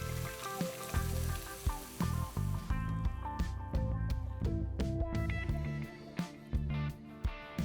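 Loud sizzling and crackling as cooked dal is poured into hot tempering oil, with splashy pours and bubbling bursts that keep spitting throughout.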